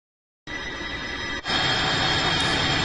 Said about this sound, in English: this sound is set up in a way the sample is gonna become 30 seconds long